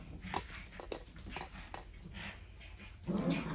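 Puppy playing tug-of-war with a sock, giving soft repeated whimpers and whiny yips at a moderate distance, with a louder scuffle of movement near the end.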